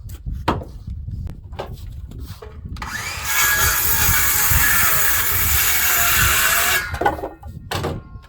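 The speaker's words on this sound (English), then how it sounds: "Now I'll just rip down these, I'll rip down those two pieces and throw them together." A power saw rips down lengths of wooden board in one loud, continuous cut lasting several seconds, with knocks and wood handling before and after, close by.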